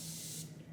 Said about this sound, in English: This is, again, the continuous setting spray, and let's go ahead and spray it all over.